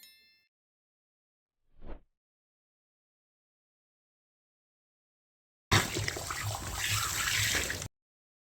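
Water gushing from a tap after the mains supply is turned back on, a steady loud rushing stream lasting about two seconds after a brief earlier knock and long silence.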